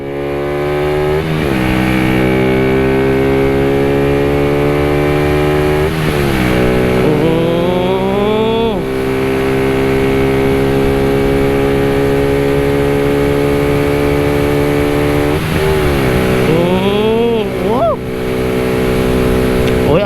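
A Yamaha Exciter 155 VVA motorcycle with 17-inch wheels, ridden on a test ride, drones steadily up close, and its engine note climbs in several surging revs as it accelerates and shifts, with someone speaking over it.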